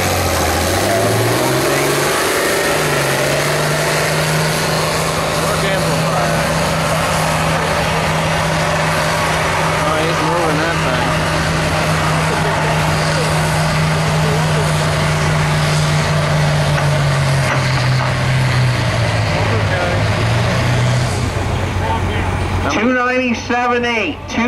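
A John Deere tractor at a tractor pull roars loudly and continuously, its engine note climbing and then holding steady through the pull before dropping away, while an announcer talks over it throughout.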